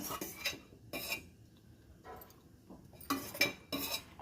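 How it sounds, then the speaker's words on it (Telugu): A metal kadai pan is set down on a kitchen stove ahead of tempering for a Nellore fish curry: a few separate clanks and clinks, fairly quiet, with hushed gaps between them and no talking. "బాండలు పెట్టేసుకోవాలి"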